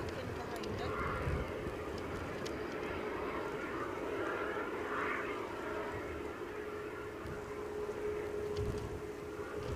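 A Norwegian airliner arrives at Edinburgh Airport, its engines giving a steady, broad roar that holds at an even level throughout, with faint talk underneath.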